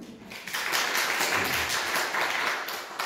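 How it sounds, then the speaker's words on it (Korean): A church congregation gives a short round of applause, a soft, steady patter of many hands heard at a distance for a few seconds. "박수 한번 쳐드리겠습니다"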